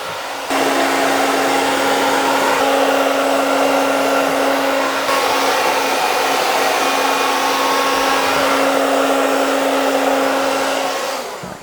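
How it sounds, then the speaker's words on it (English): A hair dryer fitted with a diffuser dries long hair, giving a loud, steady whirring blow with a constant hum. It runs nearly unbroken for the whole stretch, with a slight shift partway through, and no one speaks. "Now really utilise the diffuser to get these flicks"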